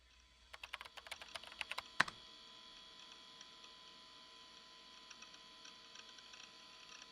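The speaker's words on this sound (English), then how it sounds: "I sat back down and started tapping out a response." Quick keyboard clatter in a Chaos;Head Noah visual novel: a rapid run of light key taps for about two seconds, then a sharper click, leaving a faint hum over a quiet background.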